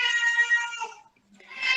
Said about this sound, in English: I have a cat running around in the house, so you might hear the cat noise